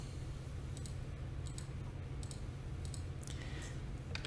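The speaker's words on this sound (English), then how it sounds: "I'm just pressing the delete key on my keyboard" Light plastic clicks from a computer keyboard's delete key being tapped several times, sparse and close, over a steady low hum with no talking.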